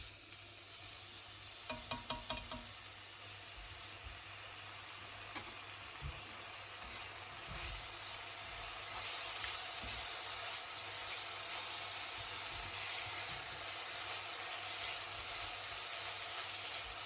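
Cardamom pods, cloves, cassia bark and salt frying in hot oil in a pan for a lamb biryani, giving a steady close sizzle and hiss with a few light clinks and stirring knocks early on.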